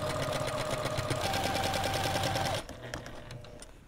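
Quilt binding going through a sewing machine at a 1/4-inch seam, a fast, even mechanical chatter running steadily for a few seconds before it stops abruptly, leaving quieter room sound.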